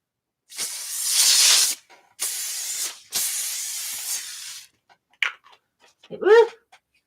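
Spray adhesive can hissing out in two long, loud bursts of about a second each, with a few shorter spurts after them, followed by a brief exclamation from a voice.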